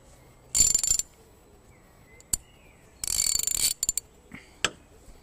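A Bergen extra-long 280 mm, 72-tooth, 3/8-inch drive ratchet clicks in fast, dense bursts of ticking, two longer runs and a few single clicks, close and loud with quiet gaps between.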